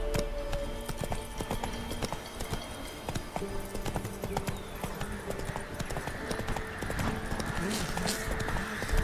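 Roach the horse in The Witcher 3 trotting, with steady clip-clop hoofbeats running throughout against a busy game soundscape of ambient effects, with some occasional voices in the mix.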